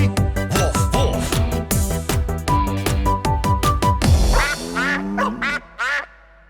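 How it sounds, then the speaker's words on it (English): Cartoonish duck quacks ring out over a bouncy children's nursery-rhyme song, first with steady musical backing, then a run of several loud, wobbly quacks near the end as the music thins out. "What does a duck say?"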